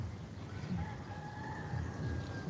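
Chickens crowing and clucking outdoors at a beachside spot in the Philippines, drawn-out crows heard at moderate distance over a steady background hum.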